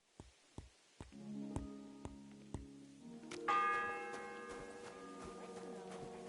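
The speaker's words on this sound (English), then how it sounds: "The seventh bell." Church bell tolling the seventh hour in a medieval video game setting, slow evenly spaced strikes ringing out alone, followed by a fuller ringing with sustained overlapping tones and a quiet background.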